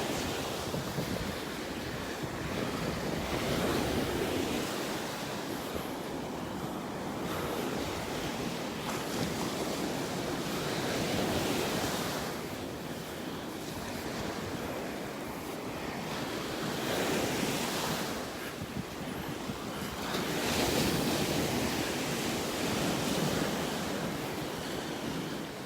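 Ocean surf rolling onto a beach in North Naples, Florida, with gusty wind buffeting the microphone, a continuous loud wash that swells and recedes every few seconds.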